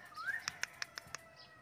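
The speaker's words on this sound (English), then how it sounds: "P for parrot." A parrot call: a rising whistled note followed by a quick series of five sharp, evenly spaced squawk-like chirps, clear and close against a quiet background.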